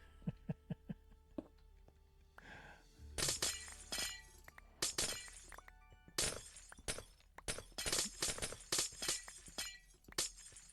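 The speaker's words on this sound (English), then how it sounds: "The annoying sound of shattering ice in Minecraft" Ice blocks shattering in the Minecraft video game, a rapid series of sharp glassy breaking crashes in irregular bursts, loud and close, preceded by a few light clicking taps.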